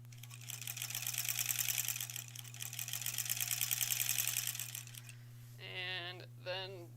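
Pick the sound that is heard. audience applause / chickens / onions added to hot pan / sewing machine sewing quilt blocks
sewing machine sewing quilt blocks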